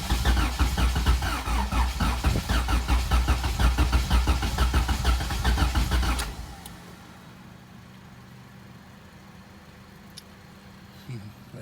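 A GSR build engine cranks and sputters on its first start attempt, with a loud rapid rhythmic chugging for about six seconds that then cuts off, leaving a quiet room with faint low rumble.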